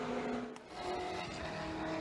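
GT1 race cars sweep through turn 1 at Road America, a faint, distant engine roar with shifting pitch as the pack passes and fades.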